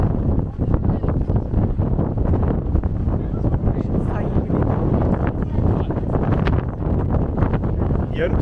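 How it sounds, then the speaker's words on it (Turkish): Strong wind gusting on a beach on Naxos, loud, constant buffeting roar against the microphone throughout, with voices faintly audible beneath it. "Çünkü hayvan gibi bir rüzgar var."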